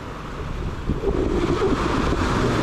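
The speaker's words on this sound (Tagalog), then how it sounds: "Malilit na yung alon, hindi katulad nung nakaraan." Small, calm waves wash onto a shore in the days after a typhoon, a steady close surf hiss with wind buffeting the microphone and no voices.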